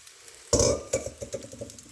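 Food hits a hot pan with a sudden burst of sizzling, then crackles and spits at close range in uneven pulses, with a brief stirring scrape partway through.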